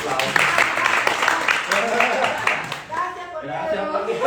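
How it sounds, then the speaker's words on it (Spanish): Audience applause at a live event, a dense patter of clapping running through most of the stretch and mixed with talking, then thinning as a voice carries on alone. "Un aplauso."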